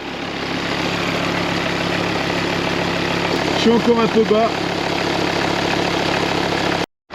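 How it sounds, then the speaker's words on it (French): A five-cylinder car engine idles steadily after a cold start, a continuous low rumble with a faint ticking clatter running throughout, as someone speaks briefly over it midway. "le moteur il claque beaucoup moins. Parce que le 5 cylindres c'est un moteur qui claque pas mal"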